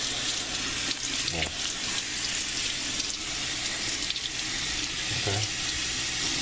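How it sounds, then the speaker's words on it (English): Tap water runs hard and continuously into a sink as a fish tank filter is rinsed under it, a loud steady splashing rush with a couple of brief spoken words over it. "Tap water."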